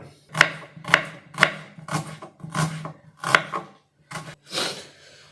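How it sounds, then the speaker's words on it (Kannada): A knife chops through an onion on a cutting board, nine crisp close thuds in a steady, slightly uneven rhythm, alone with no voices. "ಈ ಈರುಳ್ಳಿ ಕಟ್ ಮಾಡ್ಬೇಕು"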